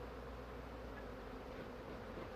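Bees hum inside an open hive with plastic frames, a faint, even, continuous buzz with no breaks.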